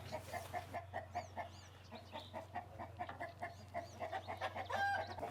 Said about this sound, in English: 3 roosters. 4 roosters.